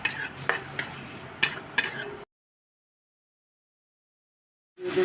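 Chopped garlic and onion stirred in oil in a pan, with several sharp clinks and scrapes of a utensil against the pan over a faint sizzle for about two seconds, followed by silence and then a brief return of sound.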